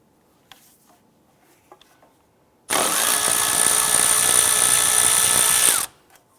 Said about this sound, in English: I'm going to go ahead and use a 10mm socket right here to go ahead and remove this bolt holding the ABS